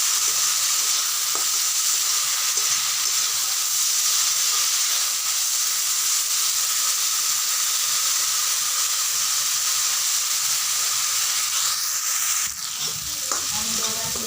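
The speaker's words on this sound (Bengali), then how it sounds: "দেখো ভাজা হচ্ছে" Pui fruit (Malabar spinach fruit) fries in a pan over a low gas flame, giving a steady loud sizzle and hiss that continues without pause, with a brief stirring clatter near the end.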